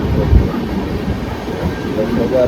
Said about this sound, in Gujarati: જોઈ શકો છો ટ્રેન જાય છે